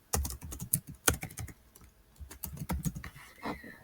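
Rapid, irregular clicking of keys on a computer keyboard, heard close up in uneven bursts with short pauses and no voices.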